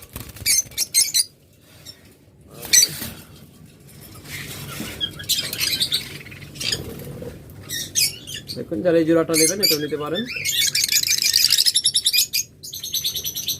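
Lovebirds chirping at a bird seller's, bursts of sharp tweets and squawks that come and go near the microphone, with someone speaking between and over the calls.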